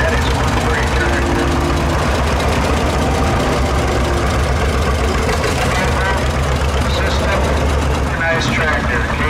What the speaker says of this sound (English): Case 730, 1964.